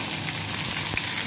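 Chopped onion and capsicum sizzle steadily in hot oil in a pan for chilli paneer, with garlic and ginger already in. The frying hiss is loud, close and continuous.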